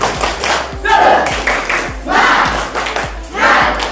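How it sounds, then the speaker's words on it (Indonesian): A group clapping a rhythmic 'tepuk semangat' cheer clap during a class ice-breaking session, with bursts of handclaps in a patterned beat and some crowd voices mixed in. "Tepuk semangat."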